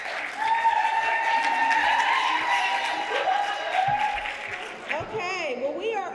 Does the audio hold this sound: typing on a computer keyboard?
no